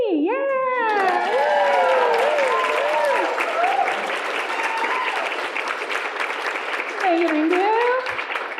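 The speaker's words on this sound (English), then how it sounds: "we're going to cheer really loud" An audience cheers and whoops loudly and continuously at an artist talk, with high voices rising over a steady wash of clapping that swells and holds for several seconds.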